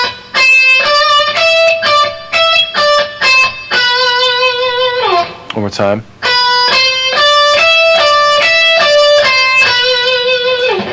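Distorted electric guitar plays a fast Paul Gilbert string-crossing lick, rapid picked notes repeating and descending, loud and bright, with a short bent slide in the middle and a brief spoken interjection.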